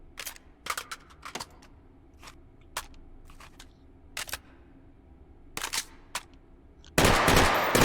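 Video game gunfire with the loudener switched off: sharp, fairly quiet clicky shots in irregular single and double bursts over a low hum, then a much louder sustained burst of noise near the end.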